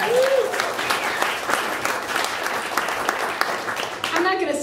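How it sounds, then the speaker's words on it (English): A live storytelling event audience claps steadily for several seconds, a dense close patter of many hands with a brief cheer at the start and end. "Let's give RJ another round of applause."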